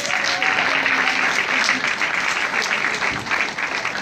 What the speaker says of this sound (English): A round of applause one more time for mommy.